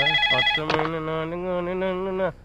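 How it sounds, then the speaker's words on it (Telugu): A phone rings loudly with a bright electronic melodic tone that holds steadily for a couple of seconds before cutting off. "ఫోన్ రా. ఎత్తు."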